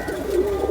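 A single pigeon coos in one steady, close, low rolling call, heard alone without voices.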